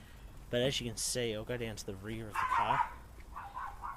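Dog barking excitedly in quick yappy bursts near the rear of a car, the barks mixed with and partly overlapping someone talking close by.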